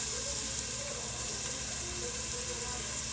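Onions and garlic cook in a pot for chicken tortilla soup, giving a steady, even sizzle and hiss that runs without a break and without voices.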